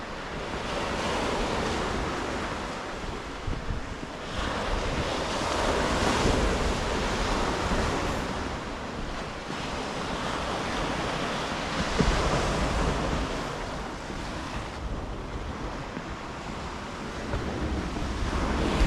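Surf rolls steadily onto the beach at Hopton on Sea, a continuous wash of breaking waves mixed with gusting wind noise on the microphone, with no voices.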